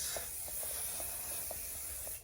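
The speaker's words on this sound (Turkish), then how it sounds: "spreyleyelim" Hair spray hisses in one continuous, fairly loud spray lasting the whole moment, with faint soft ticks underneath; no talking.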